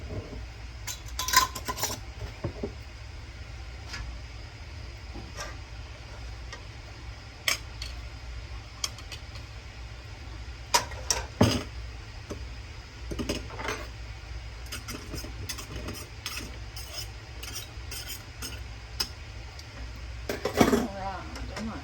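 A knife runs down the inside walls of a glass canning jar packed with bread and butter pickles, giving scattered light clinks and ticks up close, with a few sharper taps around the middle and end over a low steady background hum.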